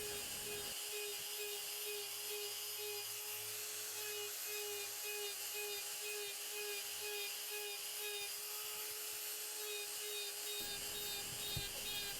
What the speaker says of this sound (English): Using this conical carbide burr in this way, doing the texture in long ways around the piece, takes a very long time to do.